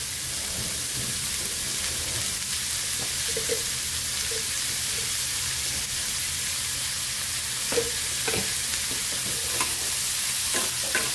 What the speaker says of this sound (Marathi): त्यामध्ये थोडंसं मीठ टाकूया, आपला कांदा पटकन भाजेल